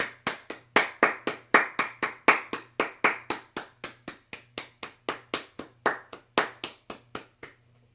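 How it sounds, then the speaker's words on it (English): Hands clap in a steady rhythm, roughly thirty sharp close claps over several seconds, evenly spaced and alone with no talk, sounding like one or a few people clapping along. "Now everybody clap your hands."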